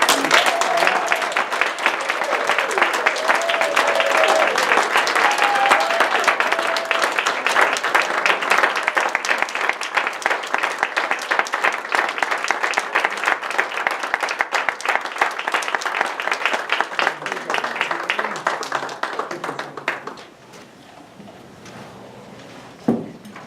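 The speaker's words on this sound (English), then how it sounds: "So would you please give a gigantic, steroid-filled round of applause to our most celebrated speaker, Mr. Mark Guthrie." Banquet audience gives a long, dense round of applause that holds steady and loud for about twenty seconds, then tapers off abruptly to a quiet room with a few stray claps.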